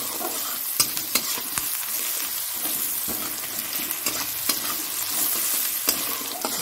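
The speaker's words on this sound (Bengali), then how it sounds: "আচ্ছা পেঁয়াজটা খুব বেশি ভাজলাম না" Onions frying in a pan for a home-cooked chicken dish, a steady close sizzle broken by sharp clacks of a utensil stirring and scraping the pan, with no talking.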